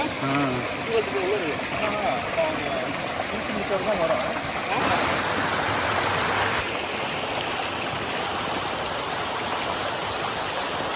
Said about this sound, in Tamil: போகிற வழியில் ஃபால்ஸ்லேருந்து வர தண்ணி ஆறு மாதிரி ஓடிட்டு இருக்கும்.